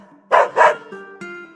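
Two loud dog barks in quick succession from a dog character in the video game Metal Slug Awakening, followed by soft musical tones.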